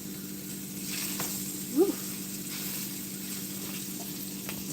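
Food fries in a pan with a steady, low sizzle running throughout, close by, broken by a brief vocal exclamation.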